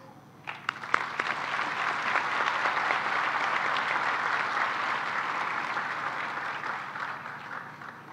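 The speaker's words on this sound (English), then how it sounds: "And for that, we owe you a round of applause." Audience applause at a high school graduation ceremony, a sustained wash of many hands clapping that swells after a few scattered early claps, stays steady and fairly loud, then tapers slightly, with no talking over it.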